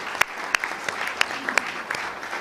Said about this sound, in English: I'd like to have a round of applause for all these people